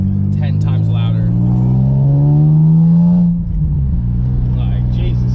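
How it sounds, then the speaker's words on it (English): A loud car engine with a repaired manifold revs up, its pitch climbing steadily before dropping back to a rumbling idle, close and continuous. "I noticed that once I fixed the manifold, this car got like 10 times louder."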